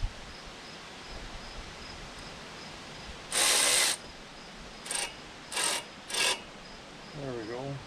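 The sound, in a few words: ratchet wrench during 8V71T engine disassembly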